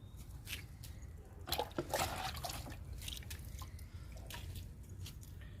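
Liquid fertilizer is poured onto a potted pink vinca plant: faint, close trickling and dripping, with a slightly louder splashy patch midway, all soft and quiet.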